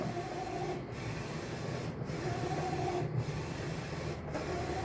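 A J16 printer printing a canvas gives a steady mechanical hum with a carriage pass sweeping by about once a second, close and continuous, with no voices.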